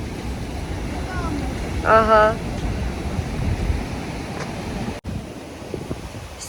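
Ocean waves and wind roar at the Martiánez pools in Tenerife, a steady rush of surf with gusts buffeting the microphone, while a voice briefly speaks.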